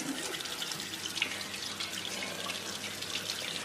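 Tap water runs steadily into a kitchen or bathroom sink while an item is washed, a close, constant hissing splash with a few faint drips, no voices.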